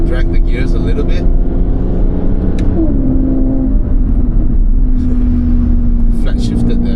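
Aston Martin accelerating in manual mode with flat shifts, a loud, near engine drone that climbs, drops briefly at each gear change, then pulls again in traffic.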